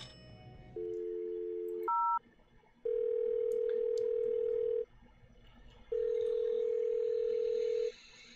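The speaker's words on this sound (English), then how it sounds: "Let's see if I can get the operator on the phone." A telephone in the Thimbleweed Park video game gives a short beep pair, a brief higher blip, then two long steady dial-tone stretches separated by a pause, clean and alone with no talk.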